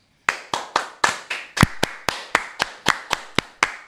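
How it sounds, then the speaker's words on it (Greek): Hand clapping in a steady 5/8 pattern, around fifteen sharp, close claps with a slightly stronger beat marking each cycle, standing alone with no talk. "Θέλεις να χτυπήσουμε παλαμάκια σε 5-8"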